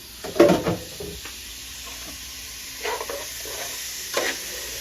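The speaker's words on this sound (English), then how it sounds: "let this cook and let this simmer a little bit" Dinner simmering and sizzling in a pan on a home stove, a faint steady crackle under louder clatter of a utensil and dishes, with a few sharp knocks spread through it.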